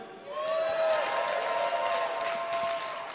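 Audience at BlizzCon cheering during a StarCraft II match, a broad sustained wash of applause and shouts that swells after a moment and holds for several seconds, with some whistles on top.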